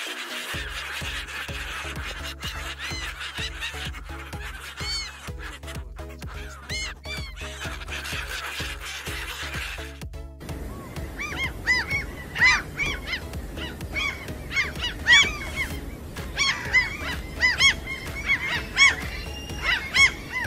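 Seagulls call repeatedly over steady background noise, the harsh, honking cries growing louder and busier midway through with many overlapping birds.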